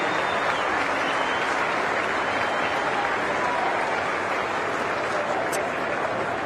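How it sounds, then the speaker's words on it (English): Steady, dense crowd applause fills a stadium after the 2019 VFL Grand Final between Richmond and Williamstown, a constant wash of clapping at moderate distance with faint crowd noise. "how about a round of applause for both the Richmond and Williamstown Football Clubs"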